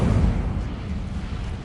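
The Incendio fire spell goes off in Hogwarts Legacy as a low, rumbling whoosh of flame, loudest at the start and then fading to a steady dull roar.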